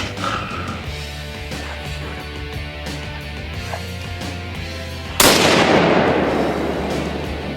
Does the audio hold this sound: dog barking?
no